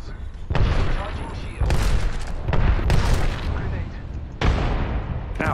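Grenades burst in Apex Legends as a run of loud, sharp blasts, four or five spaced explosions each trailing into rumbling noise, with players talking over the barrage.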